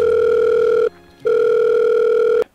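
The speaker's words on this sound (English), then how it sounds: "It's ringing." A telephone on speakerphone plays its ringing tone in two long, loud, steady buzzing tones with a short gap between them.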